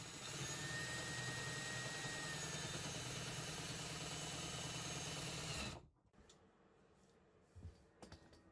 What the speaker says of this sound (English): first we're going to drill this hole, make sure it fits